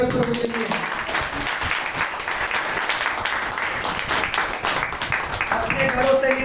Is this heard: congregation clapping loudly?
yes